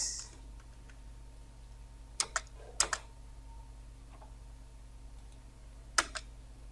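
Computer keyboard typed on while working in Microsoft Word, a few sparse, crisp key clicks in small clusters against a quiet room hum, with no talking.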